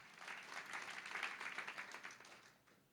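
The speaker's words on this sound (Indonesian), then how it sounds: "Tepuk tangan buat Allah kita" Congregation applauding during a church sermon, a soft, fairly distant wash of clapping that swells in the middle and tapers off over a few seconds, with no voices over it.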